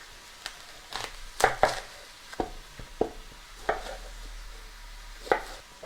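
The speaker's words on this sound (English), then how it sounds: "We've got 1 onion that we're going to slice thinly here." A knife slicing an onion thinly on a cutting board during cooking prep, heard as a series of irregular sharp chops and taps spaced through the clip, fairly close with quiet kitchen background.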